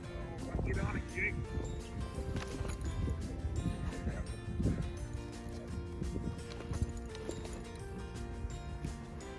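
Horses being ridden across a Utah farm toward cows and calves, with a steady rhythm of hoof clops over a constant outdoor rumble.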